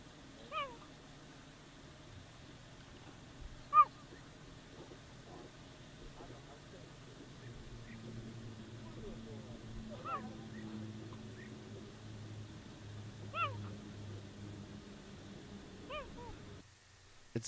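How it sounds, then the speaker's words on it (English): Cheetah making bird-like chirps, several short high chirps scattered at intervals over a low steady background hum, quiet and moderately close. "Cheetahs may be swift runners, but they sound more like birds in flight, literally."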